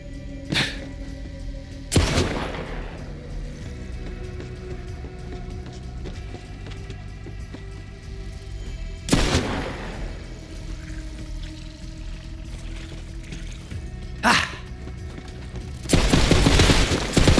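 Gunfire in Borderlands 3 as a player shoots runes through lined-up rings: a few sharp, loud isolated shots spaced seconds apart over a quiet game ambience, ending in a short rapid burst.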